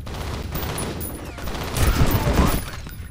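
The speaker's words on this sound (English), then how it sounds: "Are you shooting mans without me?" Gunfire in the first-person shooter FEAR Extraction Point, a burst of rapid shots swelling in the second half over a background of game noise.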